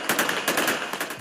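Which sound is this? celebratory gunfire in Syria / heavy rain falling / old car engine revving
celebratory gunfire in Syria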